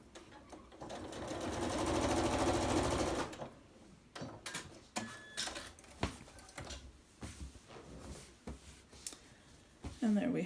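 A sewing machine stitching along a zipper runs in a steady fast whirring burst for a few seconds, then stops, leaving quieter clicks, taps and handling noises close by.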